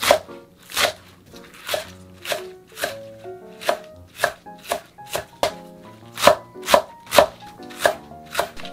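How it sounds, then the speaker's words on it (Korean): Knife chops green onions into 1cm pieces on a board for kimchi, a steady run of sharp close taps in an uneven rhythm, some strokes louder than others, with no talking. "쪽파도 마찬가지로 1cm 정도로 작게 썰어주세요."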